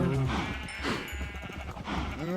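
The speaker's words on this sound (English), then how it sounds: "Let's feed our cows." Bleating farm animals in the Minecraft video game are heard at feeding time, with repeated close, loud animal cries and a continuous game hum behind them.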